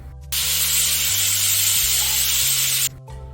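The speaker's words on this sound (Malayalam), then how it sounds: "നമ്മുടെ കുക്കറിൻ്റെ ആവിയൊക്കെ ഒന്ന് പോയെന്ന് നോക്കാം" A pressure cooker boiling tubers in a home kitchen vents steam in one loud, steady hiss lasting about two and a half seconds, close by, with a low kitchen hum before and after.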